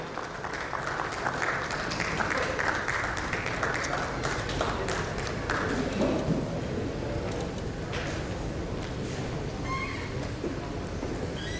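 An audience at an insurtech industry panel session applauds the moderator with a long, steady wash of many hands clapping, dense and sustained throughout, with faint voices mixed in.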